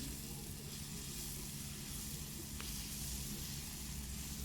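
A drumstick and prawn curry cooking in a pan gives a soft, steady sizzling hiss, quiet and continuous at close range, with no voices over it.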